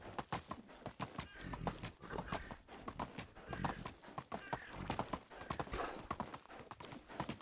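Donkey hooves clip-clopping along in the Medieval Dynasty video game, a steady, fairly quiet rhythmic trot of repeated hoof strikes throughout, with no talking over it.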